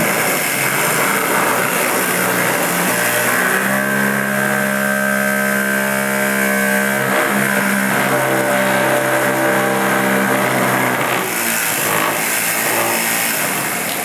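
A new-concept DC motor spins up to several thousand RPM, a loud, steady whine with rising harmonic tones sweeping through the run, continuous and close with no talk.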